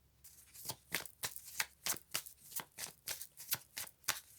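A deck of playing cards riffled and shuffled in a steady rhythm of sharp, crisp bursts, about a dozen in a row, close up and fairly quiet with no voices.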